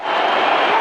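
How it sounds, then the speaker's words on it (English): A cricket crowd roars steadily and loudly in a brief burst as Brendon McCullum closes in on his century. "The crowd's going nuts here."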